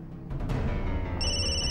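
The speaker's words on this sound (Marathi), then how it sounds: "माझा ऑफिसमधून फोन आलाय, मी घेऊ शकते का?" An office call arrives as a loud electronic phone ring that cuts in sharply after a second of low room noise and holds a steady, bright tone.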